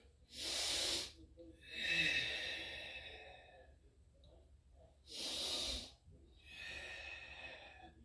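Slow, deliberate breaths during a stretching exercise, two long loud hissing exhales with softer airy breaths between them, close to the mic and with no talk.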